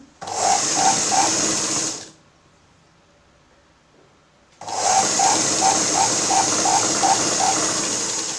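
A sewing machine runs in two loud bursts while stitching a blouse, its rapid rhythmic whirring needle clatter pausing for a couple of seconds of near silence in between.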